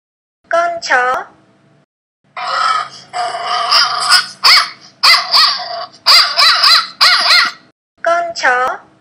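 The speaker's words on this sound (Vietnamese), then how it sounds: "Con chó." A dog barks loudly and close by in several quick bursts, with short pauses between the groups of barks, heard alone.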